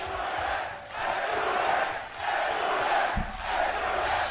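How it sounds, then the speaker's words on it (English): A large esports arena crowd at the VCT Masters Copenhagen grand final roars and chants in loud sustained waves, surging in repeated swells to back a struggling team. "The crowd giving them the best chance, hyping up the PRX players, wanting them to get back into this game."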